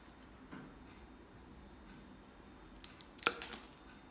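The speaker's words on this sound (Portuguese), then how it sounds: "Seguindo cada marcação com uma tesoura, isso aqui é um canudo relativamente fácil de ser cortado." Scissors snip through plastic drinking straw tubes, a few sharp clicks close together near the end after quiet handling noise, faint and close.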